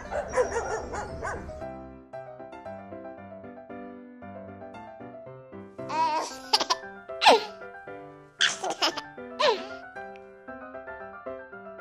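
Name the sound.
dog barking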